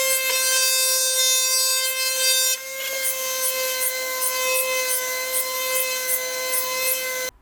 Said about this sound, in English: DBO480 from Makita, the quarter sheet sander.